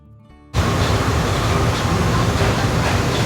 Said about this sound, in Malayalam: എന്ത് പറയുന്നു പാരീസിലത്തെ ട്രെയിനിൽ കയറിയിട്ട്?